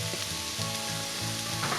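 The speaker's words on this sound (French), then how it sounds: "Voilà, nos oignons ont bien sué, on va venir rajouter nos asperges." Asparagus pieces go into a pan of sweated onions for a curried asparagus risotto, setting off a steady, close sizzle that holds without pause and with no talking.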